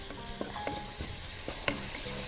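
Onions seasoned with salt and pepper fry in a pan with a steady, close sizzle, broken by a few sharp scrapes and clinks as the spoon turns them over.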